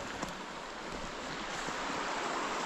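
A river flows beside a forest path in the Osmoloda mushroom-picking area, a steady, even rush of water heard close by and alone, with no talking.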